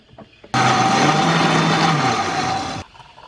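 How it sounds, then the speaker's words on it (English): A blender blending a drink switches on abruptly and whirs loudly at a steady high pitch for a couple of seconds, then cuts off. "I just pour it in to my blender"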